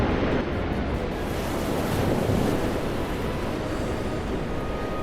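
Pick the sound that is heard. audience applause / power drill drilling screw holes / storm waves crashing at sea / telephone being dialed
storm waves crashing at sea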